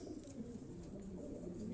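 A racing pigeon held in a hand at a loft in Quetta gives soft, faint cooing against quiet background noise.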